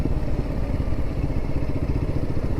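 A Royal Enfield Himalayan 450 motorcycle cruises in low gear with clutch and throttle released, its engine giving a steady, close, rumbling thump throughout with no talking.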